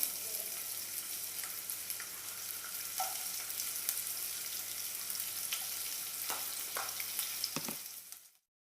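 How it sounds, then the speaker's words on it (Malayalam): Chopped coconut and cashews sizzle in hot ghee for banana halwa, a steady, close frying crackle with faint stirring clicks, running continuously until it cuts off near the end. "ഇതിലേക്ക് എടുത്തു വച്ചിരിക്കുന്ന തേങ്ങ കൊത്തി അരിഞ്ഞതും അണ്ടിപ്പരിപ്പും ചേർത്ത് മൂപ്പിച്ചെടുക്കാം."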